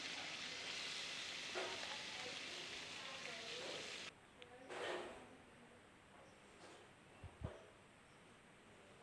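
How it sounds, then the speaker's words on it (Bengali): Potato pieces fry in oil in a wok, a dense close sizzle for the first few seconds that then drops to a quieter crackle broken by a few knocks and clatters. "এবার প্রথমে যে আলু টুকরোগুলো করেছিলাম সেই আলুগুলো আমি ভেজে নিচ্ছি।"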